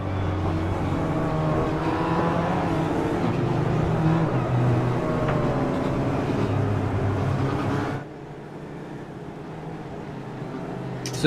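Race cars idling along on a pace lap in iRacing, a steady close engine drone with layered overlapping motors that drops to a quieter hum near the end.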